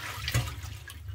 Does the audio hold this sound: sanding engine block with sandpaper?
no